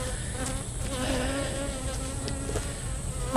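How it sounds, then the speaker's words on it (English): Steady, dense buzzing of many agitated bees close by at a hive stand, a continuous droning hum with no voices. "Those are some ornery bees."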